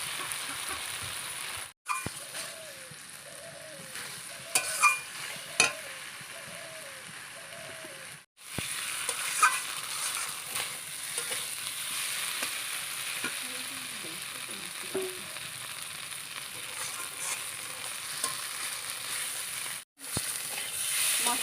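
Fried potatoes being sautéed with spices in a pan for a Bengali egg and potato curry, a steady sizzle and frying hiss with occasional stirring scrapes running throughout, briefly cutting out twice, with faint bird coos in the background.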